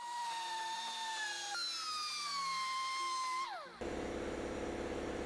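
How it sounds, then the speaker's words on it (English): A 3-inch grinder shapes steel round bar spinning on a lathe, giving a loud whining tone that slides slowly downward across a few seconds, then cuts off abruptly into a rougher, lower grinding rumble. "I just use my 3-inch grinder while it's spinning and make whatever shape I want"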